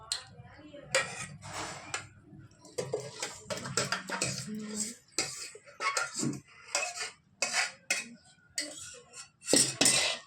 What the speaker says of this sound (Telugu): ఇప్పుడు చల్లారిపోయిన పప్పుని మిక్సీలో వేసుకుంటున్నాం.